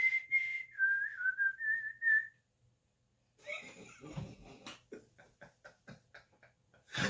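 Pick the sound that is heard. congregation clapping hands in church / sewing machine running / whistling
whistling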